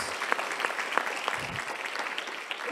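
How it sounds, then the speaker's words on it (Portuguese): Church congregation applauding during a sermon, a steady indoor wash of many hands clapping at moderate level, without talk. "Aplaude a Deus mesmo."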